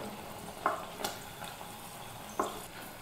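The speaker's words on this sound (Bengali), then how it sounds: "এইভাবে নাড়িয়ে চাড়িয়ে ভালোভাবে ভেজে নেব।" Spinach leaf pakoras deep frying in oil while being stirred, giving a soft steady sizzle broken by a few sharp clinks and scrapes of the spoon, with no talking.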